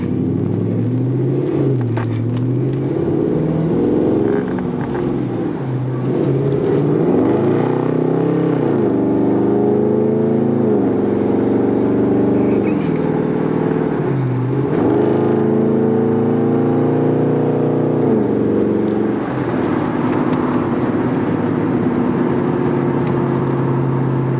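A Dodge Charger R/T engine drones steadily and climbs through repeated rising pitch sweeps as it accelerates past 60, with gear-change dips between pulls; loud and continuous throughout.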